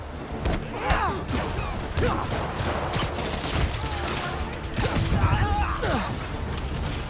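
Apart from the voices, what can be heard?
rocket attacks in video game Marvel's Spider-Man Remastered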